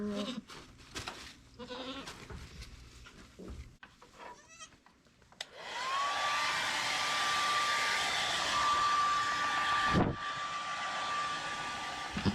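Hair dryer drying off a newborn dairy goat kid on a farm, starting after a stretch of soft bleats and rustling, then blowing loud and steady with a high whine for several seconds, briefly dipping once.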